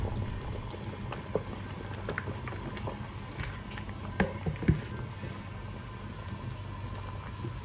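Surinamese soup with smoked chicken, spinach, cassava, banana and okra simmers in a pot, giving a faint, continuous bubbling with scattered soft pops and no talking.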